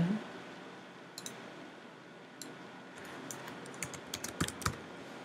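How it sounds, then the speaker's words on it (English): Typing on a computer keyboard while editing website text, sparse faint clicks at first, then a quicker cluster of soft keystrokes toward the end, quiet and close without talking. "highlight the text and start typing"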